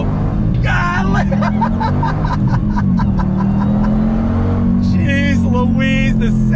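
A 2021 Dodge Durango Hellcat's engine drones loudly under acceleration, its pitch climbing and then stepping with gear shifts, while a man exclaims over it.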